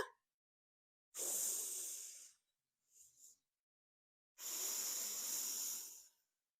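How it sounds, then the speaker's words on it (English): Two long, loud nasal breaths in and out through the nose after septoplasty surgery for a deviated septum, with a brief soft sniff between them, close to the microphone and with no talking. "This is how I can breathe now."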